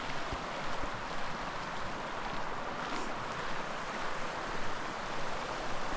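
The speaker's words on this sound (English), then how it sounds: "what a beautiful little meandering stream" Steady broadband rushing and burbling of a small meandering stream in Spearfish Canyon, continuous and fairly close, with no voices over it.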